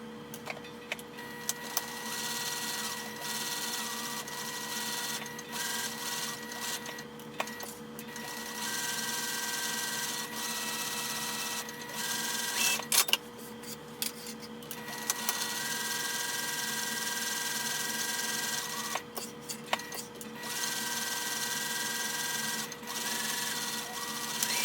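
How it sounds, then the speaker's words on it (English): Sewing machine stitching a small pouch's lining and exterior pieces together, a steady continuous mechanical whirr with faint ticking, running alone with no voices. "I will go ahead and sew both of these at the same time"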